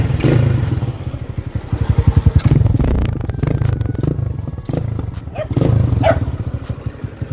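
A 150cc motorcycle with a bare exhaust pipe and a leak runs loud and raw, with rapid popping exhaust pulses that rise and fall, plus clattering and a dog barking briefly nearby.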